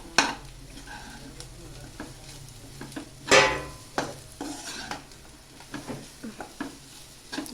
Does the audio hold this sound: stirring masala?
yes